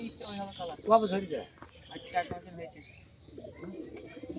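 High-flyer pigeons coo softly and intermittently at close range. Voices and other movement around them are also heard.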